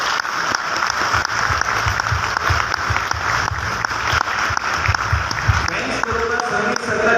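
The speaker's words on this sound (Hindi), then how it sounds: "अपने ग्रेट अप्लायंस के लिए तालियां बजा लेते हैं।" Loud, continuous clapping from a large audience at a regional conference in Goa, with dense rhythmic hand claps sustained throughout.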